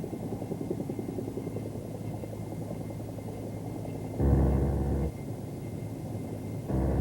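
A Bell AH-1 Cobra attack helicopter flies with a steady, moderately loud rotor drone and engine whine, briefly swelling louder twice as it passes during maneuvers.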